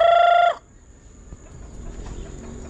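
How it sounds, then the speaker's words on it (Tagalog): Chickens on a rural farm at harvest time for sweet potatoes, first a loud stretch of clucking or crowing from a near bird for about half a second, then quieter scratching and faint rustling in the background. "Nagkalkal na yung mga manok."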